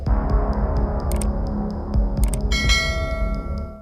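A bright notification bell chime rings out over a low steady hum, sounding in a few quick bursts, loud and close, with no voices present.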